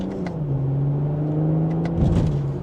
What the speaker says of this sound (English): you get a little bit of gurgles in that exhaust from the stock configuration